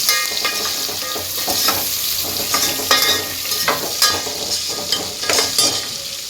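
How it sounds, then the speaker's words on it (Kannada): Onion and chillies fry in a pan with a loud, continuous sizzle, close up, broken by repeated spatula scrapes and stirring clatter and no voices. "ಈರುಳ್ಳಿ ಮತ್ತು ಮೆಣಸಿನಕಾಯಿ ಹಾಕ್ಕೊಬೇಕು. ಫ್ರೈ ಮಾಡ್ಕೊಬೇಕು ಚೆನ್ನಾಗಿ."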